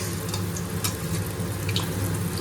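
Steady, dense sizzle of food frying in hot oil in a karahi, a continuous close hiss with faint crackles throughout.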